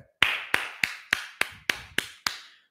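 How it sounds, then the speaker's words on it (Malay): A single person claps during a live stream, giving eight crisp, evenly spaced claps, close and clear with silence between them. "Tahniah, bagi tepukan."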